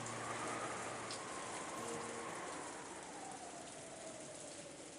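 Steady rain falling on a rose garden in the visual novel Umineko, a dense even hiss of drops on surfaces that slowly eases in loudness, with no voices.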